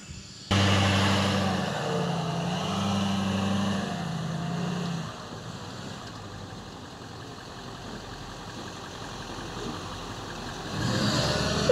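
An off-road vehicle maneuvering on packed sand: a steady engine drone with a changing low hum for several seconds, easing into a quieter idle, then swelling again near the end, with outdoor wind noise throughout.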